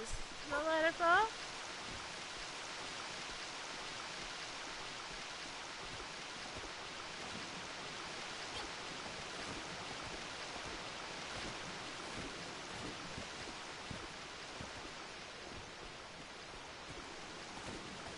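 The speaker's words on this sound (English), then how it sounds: "Is this the waterfall?" Steady broadband rush of a waterfall in the Dragon Quest Builders 2 video game, a constant soft roar that continues unchanged, with a brief louder burst of sound near the start.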